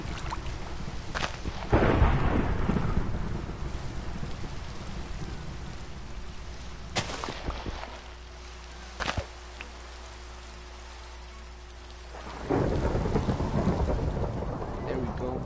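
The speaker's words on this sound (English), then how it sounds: "still raining." Minecraft rain pours steadily with rolling thunder, loud cracks and rumbles rising and fading across the scene, while a voice is faintly present in the background.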